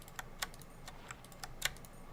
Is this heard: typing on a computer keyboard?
yes